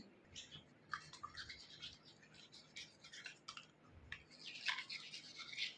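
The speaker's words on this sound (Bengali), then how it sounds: "ব্রাশ করলে যেরকম আওয়াজ হয় ওরও হচ্ছে" A toothbrush scrubs a dog's teeth with quick, bristly strokes that come in short bursts, very close but quiet, with no talking.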